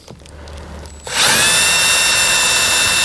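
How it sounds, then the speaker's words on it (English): A power drill bores out a vent window clip on a 1952 Chevy pickup, starting with quieter handling noise, then a loud, steady high-pitched whine from about one second on that holds to the end. "I will go ahead and drill this out"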